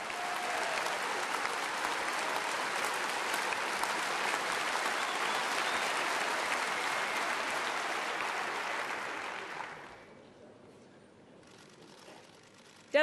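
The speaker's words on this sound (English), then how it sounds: "She's receiving the applause of delegates there." Delegates at the 2016 SNP conference in Glasgow give sustained, dense applause in a large hall, which fades away after about ten seconds.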